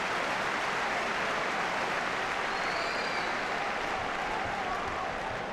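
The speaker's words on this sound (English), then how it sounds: "Deserved applause." Spectators at a Northern Ireland versus Finland international football match give sustained applause, a broad, even wash of distant clapping and crowd noise that stays steady throughout.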